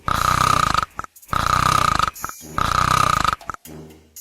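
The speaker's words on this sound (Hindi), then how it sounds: "वो जाकर खटिया पर खर्राटे मारकर सो रहा था।" A man asleep on a cot snoring loudly, three long rasping snores in steady rhythm with short gasping breaks between them, close and prominent.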